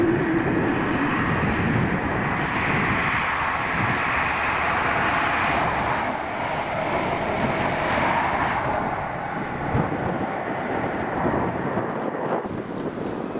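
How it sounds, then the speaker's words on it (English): A ScotRail HST led by power cars 43125 and 43127 passes at Monifeith with a loud, steady roar of engines and wheels. The sound holds close and heavy for the whole stretch, with no voices. "the 1411 ScotRail service to Edinburgh Waverley from Aberdeen with 43125 and"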